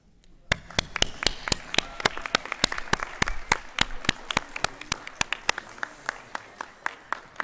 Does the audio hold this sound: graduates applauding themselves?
yes